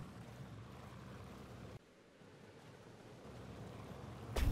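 Sea waves in the video game Summer in Mara, a soft steady wash of surf with a brief dip midway before swelling again, faint and alone.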